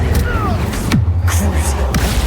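An Incendio fire spell cast in Hogwarts Legacy, a sharp burst of magic flaring at close range, followed by a second quick flare over a steady low game rumble.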